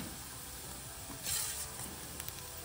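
Tomatoes go into a pan of frying onions and sizzle softly and steadily. Near the middle the sizzle swells into a brief brighter hiss, with a few small clicks from stirring. No one speaks.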